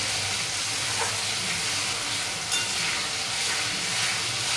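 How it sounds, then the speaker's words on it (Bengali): Spice paste with salt sautéing in a pan for a soybean and potato curry, giving a steady, moderate sizzle and hiss with faint stirring scrapes throughout, no voices. "এবার মশলাটাকে এইভাবে ভালো করে কষিয়ে নেব।"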